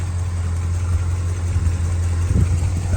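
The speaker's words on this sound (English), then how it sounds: "Beautiful running car, as you can see." A 1972 Buick Skylark Custom Convertible engine idling, a steady low rumble that holds smooth and even throughout, with a slight swell near the end and no talking.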